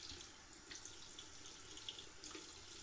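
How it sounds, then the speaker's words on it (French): A faint, steady trickle of water from a tap runs into a sink as a few drops are added to a Williams Mug shaving soap, continuous and soft throughout; no voices. "Peut-être mettre un chouïa d'eau."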